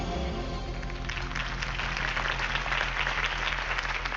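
A crowd applauds at a campaign rally for Harvey Dent in a Batman video game, a steady dense wash of clapping that holds evenly for the whole stretch.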